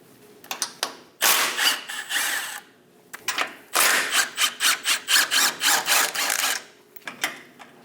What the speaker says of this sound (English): Use a 10mm socket on top. Remove the bolt.